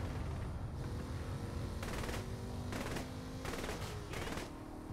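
Several short bursts of automatic gunfire in Saints Row: The Third Remastered, three or four rattling volleys spaced a second apart over a steady engine rumble, loud and close.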